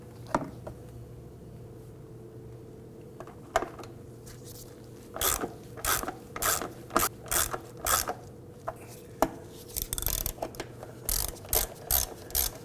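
Close ratchet clicks come in quick bursts as bolts are snugged down on a 2005-2009 Subaru Legacy during fuel tank work, with short pauses between strokes over a faint background hum.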